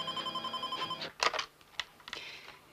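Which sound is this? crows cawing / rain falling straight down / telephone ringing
telephone ringing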